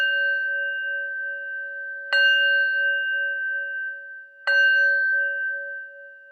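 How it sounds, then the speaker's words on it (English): A meditation bell is struck twice, a couple of seconds apart, each clear metallic strike blooming into a long sustained ringing tone that slowly fades in a quiet room. "After ringing the bell"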